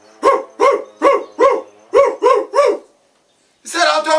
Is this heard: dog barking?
yes